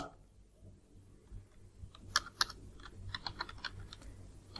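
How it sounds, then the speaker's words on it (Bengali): Computer keyboard keys clack in a short irregular burst as a web address is typed into a browser search box, close and moderately quiet over faint room tone. "ব্রাউজার ওপেন করার পর আমি ব্রাউজারের সার্চ বক্সে লিখব XI ক্লাস"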